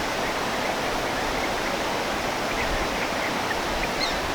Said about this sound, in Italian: Adesso mi avvicino un pochettino con la telecamera per far vedere lo scorrere del fiume